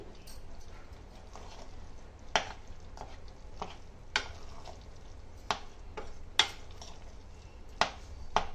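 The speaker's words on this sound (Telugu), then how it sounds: "దీనిలోనే మనం ముందుగా కట్ చేసి పెట్టుకున్న కొత్తిమీరని దీంట్లో వేసేసి మిక్స్ చేసుకోవాలి." Dal rasam rice being stirred with chopped coriander in a single pot, giving scattered sharp scraping clicks of a spoon against the pot at an uneven pace over a low, steady background.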